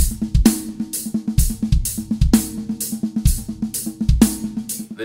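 Drum kit plays the verse groove of a song, with heavy accented hits and soft ghost notes between them, repeating in a tight pattern that sounds close and loud with no talk.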